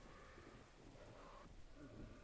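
Steady rain hiss in the Cthulhu adventure game Gibbous, very faint and continuous with no breaks, and nothing else standing out from the wash.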